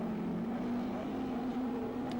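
A speedcar with a Cosworth engine races at Northline Speedway, giving a steady, fairly distant engine drone that holds an even pitch throughout.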